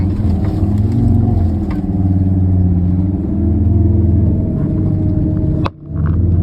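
A 4x4 truck loaded with about 500 kg climbs a hill with its differential locked, the engine droning loud and close and rising and falling in pitch under strain, then briefly cutting out near the end.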